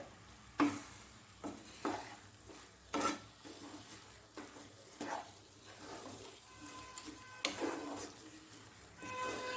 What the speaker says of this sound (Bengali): খুব ভালো মতন আমি দুধটাকে মিশিয়ে দেবো নারকেলের সঙ্গে। এই সময়টা খুব ভালো মতন নাড়তে লাগবে